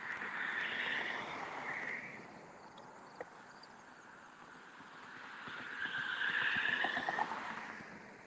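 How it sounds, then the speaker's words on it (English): Highway traffic heard while walking alongside the road, with vehicles swelling past as a broad rushing whoosh, then fading into a quieter stretch before another car rises and passes, no talking. "I know you're having to put up with traffic noises, but that's what happens when I walk the highway."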